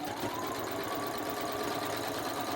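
Close, steady whirring of a sewing machine stitching a quilt block, the needle tapping in a quick regular rhythm throughout with no voices.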